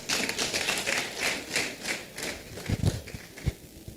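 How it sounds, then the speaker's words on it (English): Applause from a university lecture audience honouring a vice chancellor, a dense patter of many hands at moderate distance that thins into a few scattered claps and thuds toward the end. "Please, can we give her a round of applause?"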